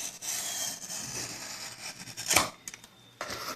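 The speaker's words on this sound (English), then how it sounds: "So cut like this, 45-degree bevel." Knife or blade cutting a 45-degree bevel into a foam RC plane wing, a steady close scraping rasp with a sharper burst of cutting near the end, no talking.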